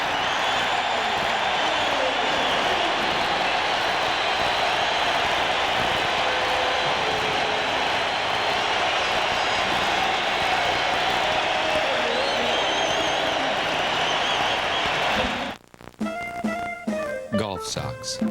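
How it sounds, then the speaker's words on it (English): A packed basketball arena crowd roars and cheers during a 1989 NBA playoff game between the Bulls and Cavaliers, a loud continuous wall of noise that holds steady for many seconds before cutting off abruptly into other sounds. "and the crowd erupts."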